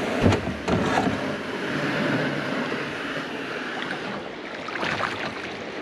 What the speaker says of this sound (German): Kommt das Boot ins Wasser!